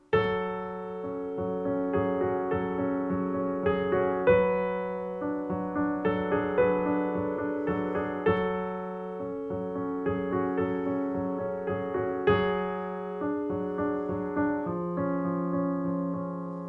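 Piano chords sound one after another, with short gaps where the rhythm pauses before each new chord, soft and steady throughout.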